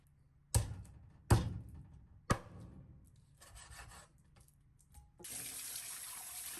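Chopped chicken thigh pieces handled with a few sharp knocks and rubbing, then a tap turns on and water runs steadily into a sink for the last second and a half, close and fairly quiet.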